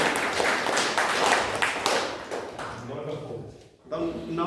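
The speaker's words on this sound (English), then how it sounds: "A round of applause for Anurag." A small audience at a Toastmasters club meeting claps for a few seconds, close and dense, fading out before a brief voice and quieter tones at the end.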